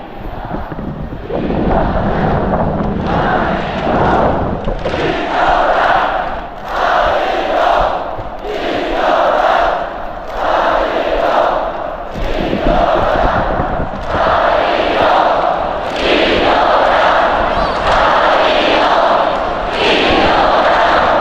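Loud, sustained crowd roar fills a North Korean football stadium, swelling and dipping in repeated waves with rhythmic chanting-like pulses throughout, close and dense.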